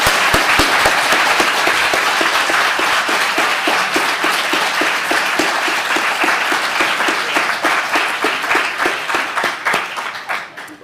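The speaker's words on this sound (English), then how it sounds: "let's give a huge round of applause for the author" A loud, sustained round of applause from the audience at an LSE author event, thick and continuous for several seconds before thinning out into scattered individual claps as it fades.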